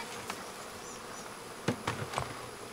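Honeybees buzz steadily around a hive that may have been poisoned by pesticide, a close, continuous drone with a few louder thumps and brushes near the end.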